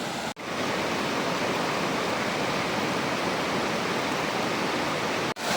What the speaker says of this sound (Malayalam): വെള്ളം ഈ മലയിൽ നിന്ന് താഴേക്ക് ഒഴുകി ഒഴുകി ഒഴുകി പോവുകയാണ്